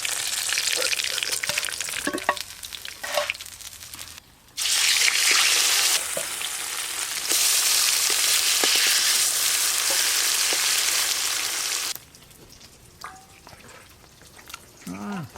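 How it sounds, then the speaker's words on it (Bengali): Spice-coated silver carp belly pieces frying in a pan, a loud sizzling hiss with stirring that comes in strong bursts, broken by quieter gaps with scraping and clatter. "মশলা মাখানো মাছের পিসগুলো ভালো করে ভাজা হয়ে গেল।"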